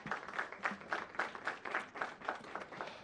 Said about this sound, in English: they deserve a big round of applause ahead of time